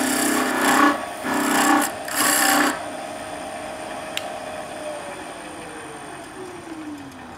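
A skew chisel cuts wood on a turning lathe in three rough, rasping bursts close by, then the lathe's steady motor whine winds down with a slowly falling pitch.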